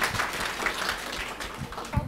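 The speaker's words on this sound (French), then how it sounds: "Merci beaucoup Anissa, on l'applaudit également." A room of people applauding a student speaker at an apprenticeship presentation in Grand Paris Sud, dense steady clapping at moderate distance that fades toward the end, with a faint voice underneath.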